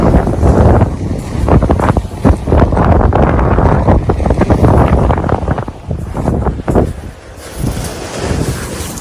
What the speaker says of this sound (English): We'll take you out into the wind just to show you what it's like.